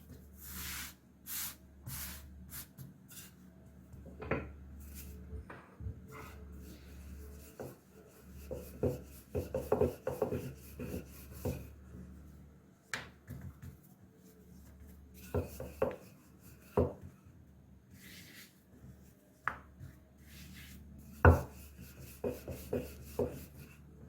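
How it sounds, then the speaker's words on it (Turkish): Dough balls rolled out on a floured surface with a rolling pin, giving soft, irregular rubbing and thudding strokes at close range, with a steady low hum underneath and no talking. "Çok az bir un yardımıyla açmaya başlıyoruz."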